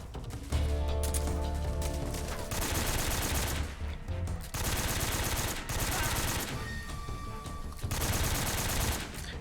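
Rapid, dense gunfire bursts from Metal Gear Solid 3: Snake Eater, loud and sustained for most of the stretch with brief pauses, crackling volleys and machine-gun-like strings layered over in-game sound.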